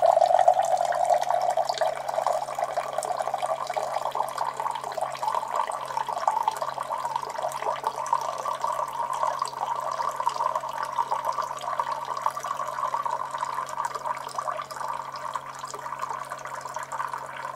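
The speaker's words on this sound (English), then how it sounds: "That should auto dispense me some water." A SimPure Y7P-W countertop RO UV water purifier auto-dispenses a measured amount of water, a steady trickling pour into a cup lasting the whole stretch, close by with no talk.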